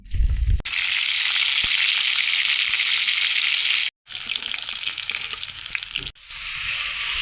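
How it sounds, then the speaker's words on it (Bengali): Onion sizzling and frying in hot oil in a wok, a loud steady hiss broken by two brief gaps, with occasional stirring scrapes and no talk. "কড়াইয়ে পেঁয়াজটা দিয়ে দিলাম। পেঁয়াজটা এখন আমরা ভাজা ভাজা করে নেব"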